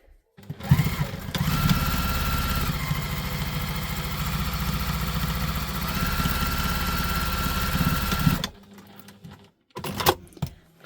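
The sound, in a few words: sewing machine stitching a tote bag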